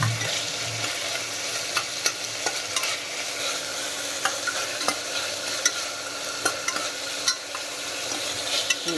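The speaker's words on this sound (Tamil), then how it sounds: "அந்த கலர் திரும்புகிற அளவுக்கு நல்லா கலக்கி விடுங்க." Onions frying in a pot for biryani while being stirred, a steady sizzle broken by repeated scrapes and taps of the spoon against the pot, close and continuous with no talk.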